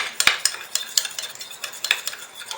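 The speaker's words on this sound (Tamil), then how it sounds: "தண்ணி சேர்த்து நல்லா மிக்ஸ் பண்ணிக்கலாம்." A spoon stirs baking soda and water in a bowl, giving a series of quick, close, bright clinks and scrapes against the bowl with an uneven rhythm and no talking.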